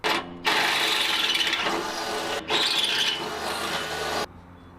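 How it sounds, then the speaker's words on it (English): A drill boring an M11 hole for an M8 nutsert during a winch install on a Nissan NP300, two sustained loud grinding bursts with a short pause between, stopping abruptly near the end. "I'll have to be drilling an M11 hole."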